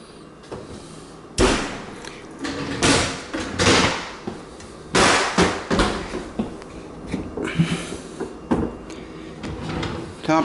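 Kitchen drawers and cupboard doors in a house interior, opened and shut repeatedly in a quick irregular series of close thumps, slides and clacks, with room echo and no talk.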